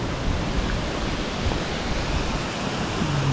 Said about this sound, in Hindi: बहुत ही प्यारा वाटरफॉल,